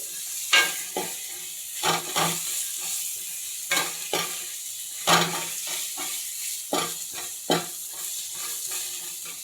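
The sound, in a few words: stir-frying capsicum, cabbage and carrot for chowmein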